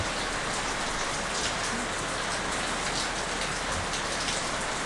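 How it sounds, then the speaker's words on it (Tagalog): Heavy rain pours in the Philippines, a dense, unbroken hiss of drops striking surfaces at steady loudness. "umuulan na naman sa Pilipinas"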